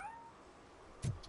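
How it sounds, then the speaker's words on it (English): A cat in the RoboCop video game lets out a short meow, starting with a faint rising cry, then a brief louder sound near the end of a quiet stretch. "Oh, look at the cat."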